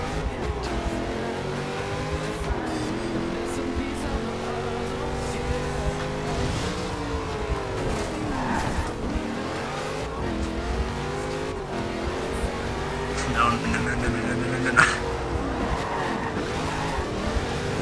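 Racing car engines in Forza, a continuous loud roar whose pitch climbs and drops with gear changes, with occasional tire squeals and scrapes, close throughout.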